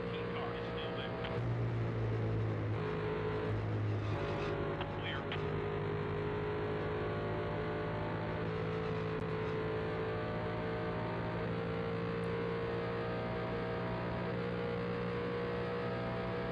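Race car engine droning at high revs in the racing game NASCAR 2001 during the Coca-Cola 600, a constant loud buzzing roar with steady pitch throughout, and someone talking over it at times.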